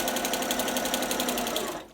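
A domestic sewing machine runs a quick burst of stitching along a 5/8-inch seam, a close, steady buzzing chatter that slows near the end.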